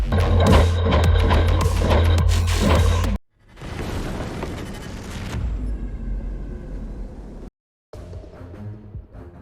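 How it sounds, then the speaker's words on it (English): Heavy, loud rumbling blasts from an aerial bombing strike on infantry positions in Toretsk, Donetsk region, with sustained booming roar broken by abrupt cuts. "The Air Force of the Armed Forces of Ukraine conducted a precision bombing strike on Russian infantry positions in Toretsk, Donetsk region."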